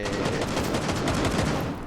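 Rapid bursts of gunfire crackle continuously in quick succession, loud and dense, automatic weapons firing in the video game Rainbow Six Siege.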